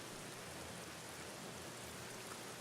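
Steady rain falling in the video game The Black Mirror, a dense continuous hiss with no talk over it and no breaks.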